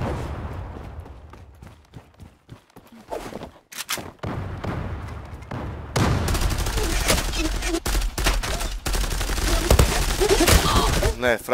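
Rapid bursts of gunfire in a competitive shooter game, sparse shots at first, then dense overlapping automatic fire that stays loud and close throughout.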